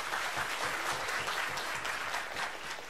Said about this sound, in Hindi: एक बार डॉक्टर पीयूष के लिए जोरदार तालियां।